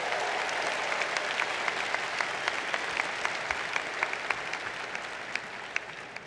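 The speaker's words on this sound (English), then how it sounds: "So give them another round of applause for being here today." Steady, sustained applause from a large audience at an engineering commencement ceremony honoring graduates of fifty years or more, a dense wash of clapping heard from a distance with no voices on top.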